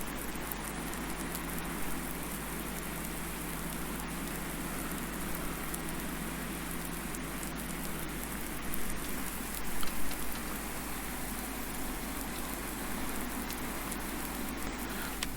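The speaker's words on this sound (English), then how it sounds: "That's rain I'm imagining there, isn't it?" Steady rain patters down continuously in the farming video game Farming Simulator 19, a dense, even hiss of drops with no talking over it.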